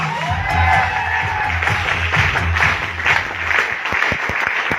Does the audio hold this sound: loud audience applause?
yes